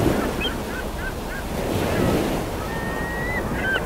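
Ocean surf with wind at a seashore, a steady washing roar of waves under gusty wind noise, with faint high cries of gulls scattered across it.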